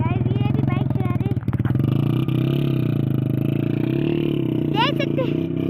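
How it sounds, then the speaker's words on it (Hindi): Motorcycles climb a slope with engines droning steadily and loud close by, talk and wind noise heard over the engine throughout. "गाइस ये भी बाइक चला रहे"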